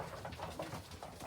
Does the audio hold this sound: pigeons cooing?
yes